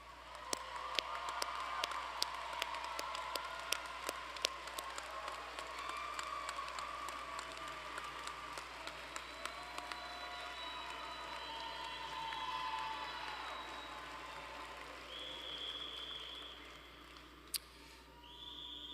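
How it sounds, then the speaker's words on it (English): Audience at a university commencement applauds the graduates with sustained, even clapping that carries on for many seconds, some sharper claps standing out, steady and moderately distant in a large hall. "have one more round of applause for all of our graduates."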